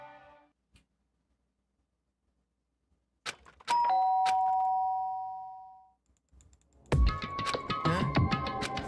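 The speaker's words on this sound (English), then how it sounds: "Did I hear the doorbell?" A doorbell chimes in the Danganronpa video game, a clear two-tone ding-dong that rings out and fades after some soft clicks, then music and busier game sounds start.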